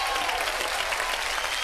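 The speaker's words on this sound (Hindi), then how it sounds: "जोरदार तालियां उन मर्दों के लिए जो यहाँ बैठे हुए हैं और चुपचाप देख रहे हैं." Applause from a studio audience on an Indian TV comedy show, steady dense clapping that fills the whole short stretch at moderate loudness, with some voices mixed in.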